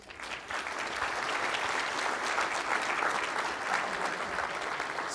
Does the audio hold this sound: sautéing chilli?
no